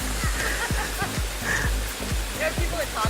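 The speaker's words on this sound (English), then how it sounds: "I'm gonna need to have this creek moved over" A creek flowing outdoors as a steady, full rush of water, with a voice talking over it throughout.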